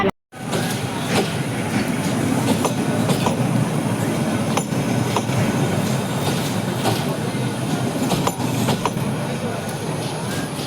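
A train rumbles along the rails, a loud steady roar with rhythmic clicks and clacks from the wheels, close by.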